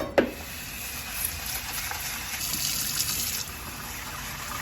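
Rice is washed in water, heard as a close, steady swishing trickle that follows a sharp knock at the start and cuts off abruptly after a few seconds, leaving quiet room tone.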